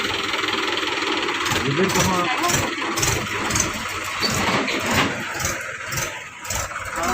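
A tractor engine runs with a steady, rough mechanical chug throughout, fairly close, while people talk over it.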